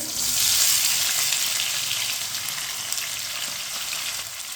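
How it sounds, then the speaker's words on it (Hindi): Chopped tomatoes hitting hot oil in a frying pan while cooking masala bhindi, giving a loud, steady hiss that swells early then settles into a continuous sizzle with no talking. "दो बारीक कटे हुए टमाटर डालेंगे।"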